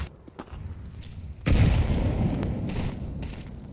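A grenade detonates in the Counter-Strike video game: a sudden loud blast with a rumbling, crackling tail that slowly fades, following a few quieter in-game thuds.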